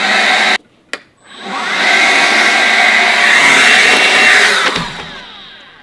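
A PowerSmart 40V cordless leaf blower (PS7622) whirs up after a brief click and pause, holding a loud, steady broadband rush with a high whine, then cuts off abruptly near the end.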